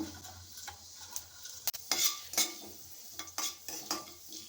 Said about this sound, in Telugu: ఆయిల్ హీట్ అయిందండి ఆవాలు వేసుకుంటున్నాను జీలకర్ర పోపు దినుసులు